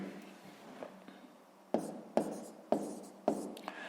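A pen writes on paper while a math exercise is worked out, starting with soft scratching and then four crisp, evenly spaced strokes, close and quiet with no talk.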